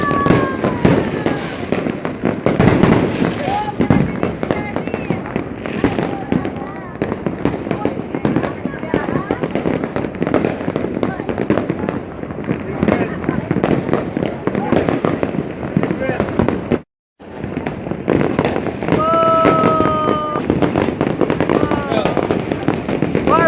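New Year fireworks and firecrackers burst nonstop in dense, crackling volleys all around, with sharp pops and whistling rockets, loud and continuous, while people's voices mingle faintly beneath the din.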